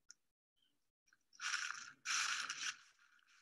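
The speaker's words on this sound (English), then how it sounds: "you can probably hear the crunchy leaves I'm stepping on" Footsteps crunch over dry fallen Osage orange leaves outdoors on a windy day, two loud, close crunching steps after a quiet start with faint small rustles.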